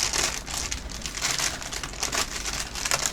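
Wax paper is peeled off a freshly baked pumpkin roll cake, giving close, crinkly crackling and soft tearing rustles in uneven bursts.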